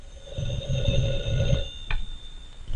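A vintage telephone bell rings in a 1940s serial setting. The loud, close, trilling ring lasts about a second and a half before it cuts off, leaving quiet room tone.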